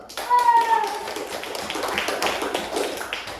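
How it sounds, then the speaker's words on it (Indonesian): A class of students claps in a quick, uneven patter after a teacher's short prompt, the applause fairly close and fading slightly toward the end. "Tepuk tangan dulu."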